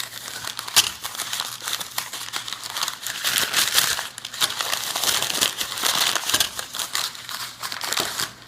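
Wrapping paper crinkles and rustles continuously as a replacement guitar tremolo part is unwrapped, close and busy with irregular crackling bursts and no voices.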